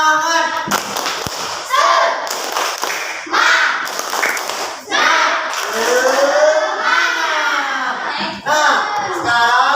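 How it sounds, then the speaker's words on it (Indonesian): A fourth-grade class chants and claps together in a rhythmic group clap, children's voices mixed with sharp hand claps, loud and close in the classroom. "Coba tepuk semangat."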